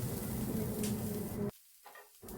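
Onions and chopped green chillies fry over a high gas flame for ghugni, giving a dense, steady sizzle that cuts off abruptly partway through, leaving near silence with faint crackles.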